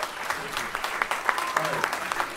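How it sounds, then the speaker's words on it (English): Audience clapping for a trumpet player at The Jazz Kitchen jazz club, a steady, dense round of applause from a live crowd, with scattered louder claps. "Let's give him a round of applause."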